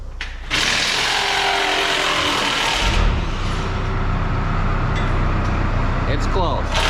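Hand wrenches work loose bolts in a tight spot while a Massey Ferguson 8250 tractor is split, a loud, dense mechanical racket of clicking and grinding, with voices talking over it.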